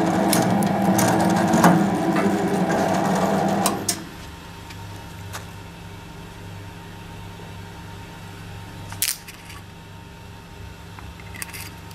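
An MZ-403 semi-automatic thread rolling machine runs with a steady, loud mechanical whir and rattle for about four seconds, then stops, leaving a quiet hum and a few scattered clicks.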